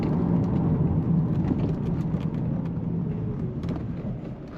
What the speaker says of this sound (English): Now the road noise, it could be down to the tyres I got on you